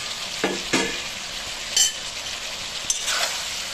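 Okra and potatoes being stirred into a spice masala in a pan, with a soft steady sizzle and a few scraping strokes of a spatula, fairly quiet and close.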